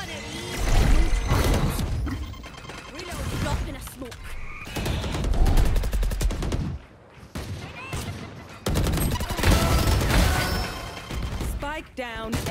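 Phantom rifle bursts in Valorant, loud rapid gunfire in several clusters with brief pauses between them, mixed with game effects and some talk.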